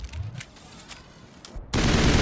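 Automatic fire from the Lancer rifle in Mass Effect: soft intermittent shots at first, then a loud sustained burst of rapid gunfire to the end.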